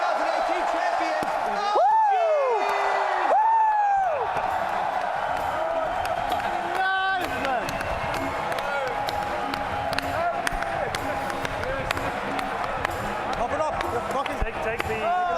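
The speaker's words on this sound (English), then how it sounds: "please give the biggest round of applause to your TI" Crowd at a Dota 2 esports championship ceremony cheers and applauds the TI 2018 champions in a big arena, loud whoops and rising shouts over continuous clapping, with a voice speaking through the din.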